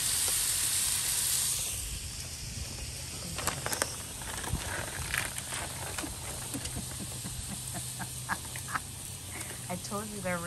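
Butter sizzling on a teppanyaki griddle, a steady low hiss and crackle running throughout with scattered pops, with voices talking over it.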